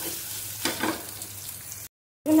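Chopped mango frying in a pan with pabda fish gives a brief, soft sizzle with a stir. The sound cuts out to silence near the end, then returns briefly.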